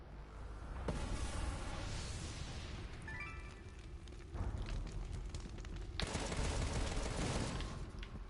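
Sustained gunfire in the Contra: Rogue Corps video game, with dense, loud volleys and booming explosive hits that roll on steadily with brief breaks, and no talking.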